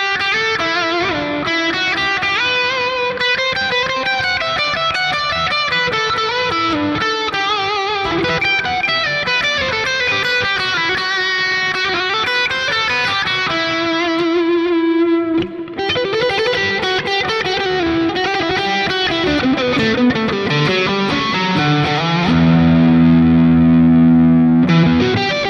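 Electric guitar played through the Neural DSP Plini X amp plugin on a preset, dense distorted riffs and chords with effects, steady and loud, ending on ringing low sustained chords with no talk.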